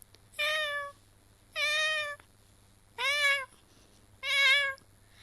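Four short, high-pitched kitten meows, each voiced by a person imitating a young cat, evenly spaced, close and clear against near silence.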